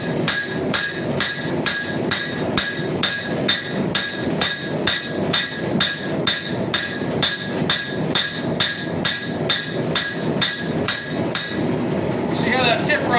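A hammer forging a bevel into a horseshoe knife, a steady run of about two dozen loud, evenly spaced ringing blows on hot steel, close up and alone.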